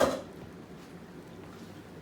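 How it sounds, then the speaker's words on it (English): A metal lid clanks onto a pot of simmering white rice on the stove, a single short clatter at the start that fades quickly into a quiet kitchen hum. "we're gonna put that top on that rice"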